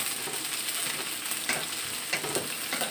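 Chili, shallots and garlic stir-fry in a pan for a spinach and oyster mushroom dish. A close, continuous frying hiss is broken by brief crackling bursts from stirring.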